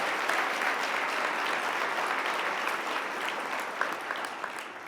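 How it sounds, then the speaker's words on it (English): A large conference audience at a homelessness conference in a convention center applauds the lunch staff, a steady, even wash of clapping from a big crowd, sustained at moderate level throughout. "How about a big round of applause to all of the staff that brought out lunch for you?"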